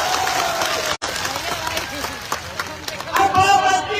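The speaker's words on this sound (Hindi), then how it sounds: "मैं एक बार जोरदार ताली बजानी पड़ी के लिए बता।" A crowd at a farmers' rally in Alwar, India claps loudly on request, a dense outdoor mass of hands mixed with hubbub and shouting voices, swelling louder toward the end.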